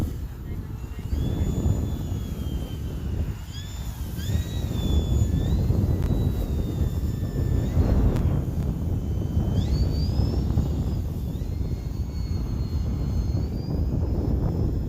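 An E-flite Turbo Timber Evolution RC airplane flies in gusty wind, its electric motor whining steadily with rising and falling pitch as it turns, under heavy wind rumble and occasional distant talk.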